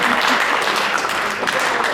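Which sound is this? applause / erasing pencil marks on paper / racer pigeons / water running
applause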